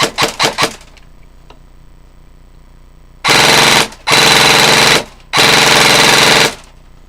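Airsoft gun firing full auto at about 22 rounds per second: a few quick single shots, then three loud sustained bursts of rapid buzzing fire, close and dominant, separated by brief pauses.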